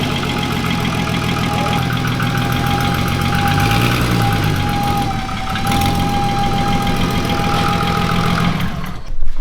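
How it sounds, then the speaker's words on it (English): Rebuilt 2.8 24v VR6 turbo engine with some blow-by running steadily in a garage, a loud close rumble with a thin whine held throughout. "All right, Jaden, start her up. There's some blow by."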